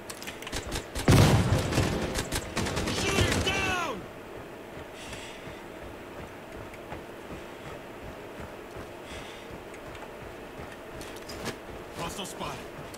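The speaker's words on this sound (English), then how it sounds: "Flashbang!" Flashbang and gunfire in a shooter video game, a loud burst of rapid shots and a bang lasting a few seconds, then a muffled ringing lull with faint noises, while a voice speaks over it.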